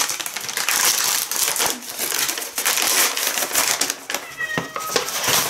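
Loud, close crinkling and ripping of tape and packaging on a Kitfort KT-803 kitchen scale goes on continuously, with a brief cat meow near the end.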